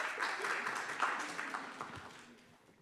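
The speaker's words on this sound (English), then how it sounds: "Please welcome the four of them. Come on, applause." A live audience at a space-themed conference gives a round of applause, a fairly faint patter of clapping that gradually fades away.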